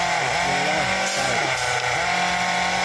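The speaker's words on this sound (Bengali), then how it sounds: "মেশিনের মাধ্যমে এটা টাইট হবে।" A bolt torqueing machine fitted with a socket runs loudly and steadily while tightening a large 135 mm diameter bolt, its engine-like drone shifting pitch as it works.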